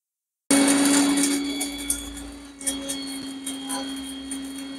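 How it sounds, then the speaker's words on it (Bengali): An electric mixer grinder starts abruptly and whirs steadily as it grinds cooled whole spices in its jar for mutton curry, a constant motor hum with faint rattling from the jar. "মশলাটা ঠান্ডা হয়ে যাওয়ার পর আমি একটা মিক্সির জারের মধ্যে দিয়ে দিয়েছি।"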